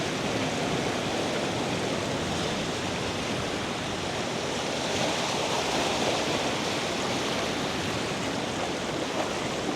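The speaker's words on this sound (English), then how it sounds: "Some decent waves still coming through, so looking pretty good." Ocean waves wash over coastal rocks in a steady, dense roar of surf that stays loud and continuous with no pauses and no voices.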